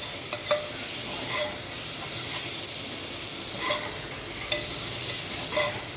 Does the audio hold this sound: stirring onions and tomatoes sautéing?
yes